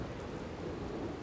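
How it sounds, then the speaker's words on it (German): Rain and thunder in Dragon Quest Builders 2 form a steady, even hiss of rainfall with a low rumbling underneath, quiet and continuous, with no speech. "Ach, deswegen regnet's."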